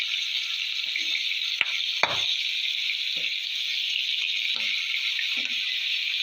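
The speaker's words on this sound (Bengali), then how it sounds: "তার জন্য হালকা করে আমি ফ্রাই করে নেব" Shrimp lightly frying in a pan for a shrimp malai curry, a steady soft sizzle running throughout with occasional faint clinks and stirring knocks, no voices.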